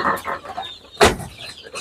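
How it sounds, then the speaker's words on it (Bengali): Native deshi chickens on a small farm cluck in short bursts, with one sharp, loud squawk midway among softer nearby clucks. "আর আমরা মুরগিগুলো দেখাচ্ছি"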